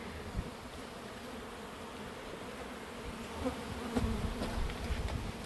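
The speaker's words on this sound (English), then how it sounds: "transporting the bees." A soft, continuous buzzing of many wild bees hovers close by in a garden in Kingston, Jamaica, with brief louder swells as individual insects pass near.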